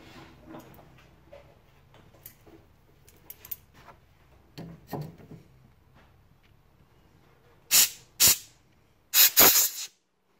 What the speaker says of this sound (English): a quick blowout with the compressor.